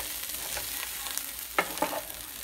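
Beans and lentils sauté in a pan with a soft, steady sizzle, while a spoon stirs and gives two sharp metallic scrapes near the end.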